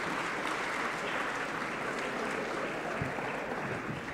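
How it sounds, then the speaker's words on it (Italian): A seated audience in a municipal meeting hall claps for several seconds, a continuous even wash of many hands at moderate volume that holds steady from start to finish without talk over it. "Facciamo un bel applauso"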